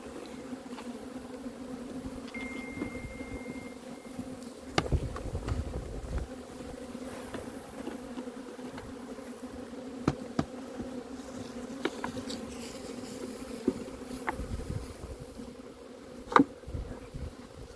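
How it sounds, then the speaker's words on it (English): Steady, dense buzzing of many honeybees close by, a continuous drone with occasional louder passes as individual bees fly near. "these bees, if I left these here, they would fly back over here to this hive"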